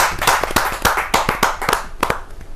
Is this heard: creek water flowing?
no